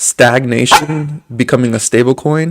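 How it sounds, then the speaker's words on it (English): Dog barking indoors at home, several sharp barks in quick bursts, loud and close, mixed with someone talking. "Excuse my dog."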